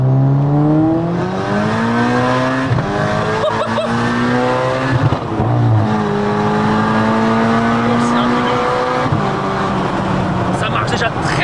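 A Volkswagen Golf 6R tuned to 700 hp accelerates hard, its loud, close engine note climbing steadily with brief dips at each gear change before climbing again.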